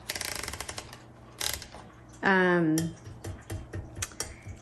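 Typing and backspacing on a 1963 Olympia SM5 manual typewriter: a quick run of sharp key strikes, then a mechanical ratcheting burst as the carriage shifts, followed by more scattered keystrokes, close and fairly loud.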